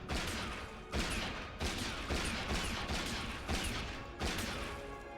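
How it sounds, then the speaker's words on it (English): Bursts of gunfire from Honkai Star Rail combat set in a hotel, repeating roughly every second in sharp, loud cracks, with no talk over them. "I like that I'm just shooting in the hotel"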